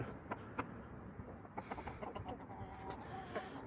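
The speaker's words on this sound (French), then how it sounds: "c'est mon petit coq Unagadori" A young rooster named Unagadori, recovering after being unwell, clucks in short soft bursts scattered over a quiet farmyard background, faint and without talk.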